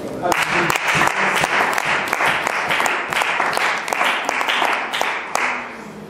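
A church congregation applauds together in rhythm, with steady, dense clapping throughout and voices mixed in underneath.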